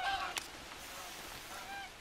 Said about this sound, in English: But we got plenty of more geese coming in, flock after flock.